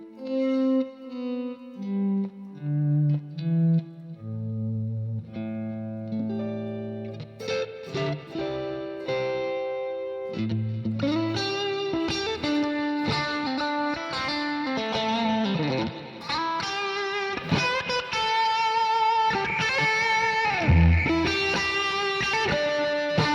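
Music intro with a scratchy distortion effect: a sequence of separate plucked notes at the start gives way to dense, gritty, effected chords and swelling tones, continuous and fairly loud with no talking.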